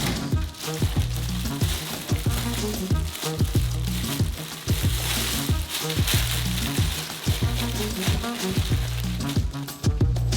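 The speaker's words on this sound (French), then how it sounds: "Et en remuant constamment, faites fondre le chocolat." A spoon scrapes rhythmically around a saucepan as milk chocolate melts, the repeated strokes running over a constant low sizzle.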